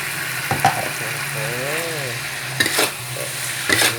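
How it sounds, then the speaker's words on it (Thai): Chopped onion hits a hot pan of minced pork being stir-fried for a pork-in-oyster-sauce dish, giving a steady close sizzle broken by a few sharp scrapes of the spatula. "มาแล้วครับหอมหัวใหญ่ใส่ลงไปครับ"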